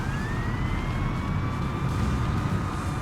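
A video game fire truck's wailing siren sweeps steadily over a constant rumble of engine and traffic noise, loud and continuous with no voices.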